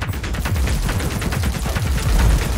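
A grenade burst and rattling gunfire in the game Cyberpunk 2077: Phantom Liberty, a dense, rumbling run of close, overlapping blasts and shots with heavy low-end booms that continues without pause.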